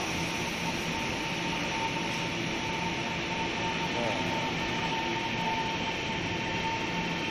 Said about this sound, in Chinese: 哦，火车来了